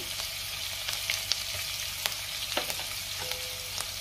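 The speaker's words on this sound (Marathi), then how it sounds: "आता आपण जिरे घालूया, हिरवी मिरची घालूया, त्यातच आपल्याला आलं लसणाची पेस्ट घालायची।" Cumin seeds, green chili and ginger-garlic paste fry in hot oil in a pan for pav bhaji, giving a continuous close sizzle with scattered pops and crackles and faint stirring scrapes, and no talk.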